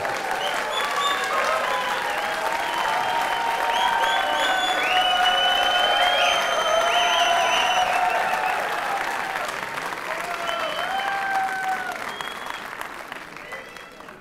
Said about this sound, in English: I would like to congratulate all the graduates with another round of applause.